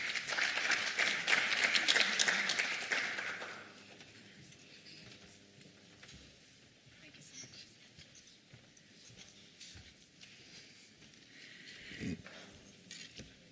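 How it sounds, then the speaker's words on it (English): Conference audience at a sustainable industries event in South Africa applauding a speaker called to the stage; clapping is fairly loud for the first few seconds, then fades to quiet room noise with scattered faint sounds. "please give her a round of applause"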